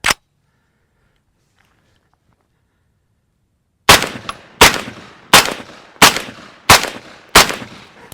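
Six evenly paced rifle shots suppressed by a Rugged Suppressors Micro30 modular silencer, each a loud, sharp report with a short decaying tail, after a lone shot and a few seconds of silence.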